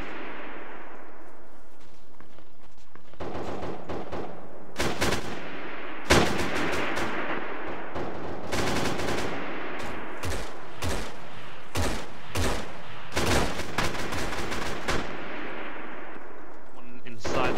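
Sustained gunfire from a military battle in ARMA 3: dense bursts of rifle and machine-gun shots with heavy, booming reports, coming in clustered volleys over a constant rumbling background, loud and close.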